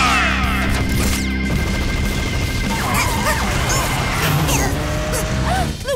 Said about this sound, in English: Crazy missile, fire!